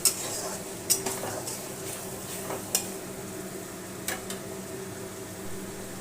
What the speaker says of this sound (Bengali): ভেজে রাখা মশলাটা এবার অ্যাড করে দিলাম, দিয়ে ভালোভাবে মশলার সাথে মিশিয়ে নিলাম